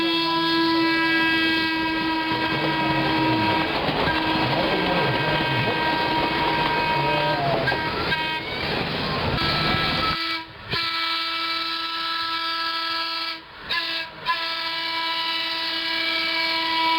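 A Chicago Aurora and Elgin 308 electric interurban trolley car rumbles past at speed, its steady roar and whine holding strong before fading, with brief gaps near the end.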